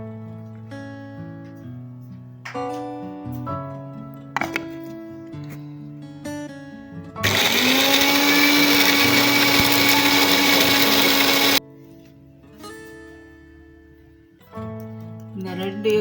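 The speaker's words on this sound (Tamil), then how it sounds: "கொஞ்சோண்டு தேங்காய், வெங்காயம், கருவேப்பிலை, மிளகு, சீரகம், தக்காளி எல்லாத்தையும் அரைச்சிட்டு வந்துடுறேன்." A kitchen mixer grinder blends coconut, onion, curry leaves, pepper, cumin and tomato for egg masala in one loud, steady whirring run of about four seconds, with someone speaking before and after.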